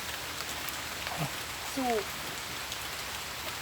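Steady rain falling outdoors near a canal where people wade for shellfish, a broadband hiss throughout with a few brief voiced sounds in the middle.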